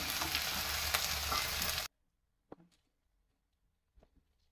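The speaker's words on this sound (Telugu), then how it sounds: "ఉల్లిపాయలు వేగాయి కదా మనం కూరగాయలు వేస్తున్నాం అండి బెండకాయలు బంగాళదుంపలు" Okra and potatoes are added to onions frying in oil for a puri curry, making a dense, loud sizzle that cuts off abruptly, leaving near silence broken by a couple of faint clicks.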